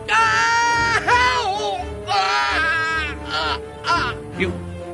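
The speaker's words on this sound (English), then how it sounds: "I've never heard Finch shout like that" Someone shouts angrily in the Victorian detective game The Testament of Sherlock Holmes: loud, strained, high-pitched bursts of yelling in several separate outbursts.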